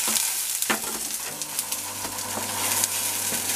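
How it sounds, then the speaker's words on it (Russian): Young green onion fries in coconut oil in a pan, a close, dense sizzle with scattered crackles and the scrape of stirring throughout, and no voices. "Обжариваю здесь лук, зеленый, молодой, на кокосовом масле."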